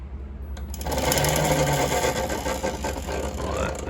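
A Voloci electric bike's motor spins the rear wheel during a restoration, giving off a steady, loud mechanical whir and rattle with a rhythmic ratcheting texture. It runs on without a break, close by, and no one talks.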